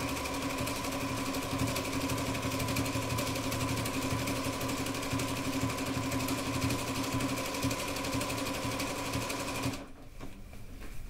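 A sewing machine stitches a flower rug, its fast steady mechanical hum running loud and continuous for about ten seconds before stopping, leaving quieter handling noise.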